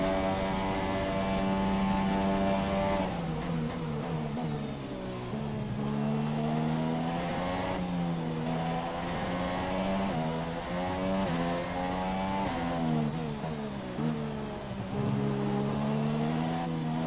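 A Formula 1 car in the F1 2017 racing game, engine running a rich fuel mix on the Russia circuit, holds a loud, steady high-pitched whine that rises and dips through gear changes and throttle lifts, with no talk.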